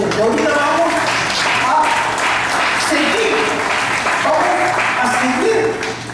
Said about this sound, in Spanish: creo que hay un aplauso si está entendiendo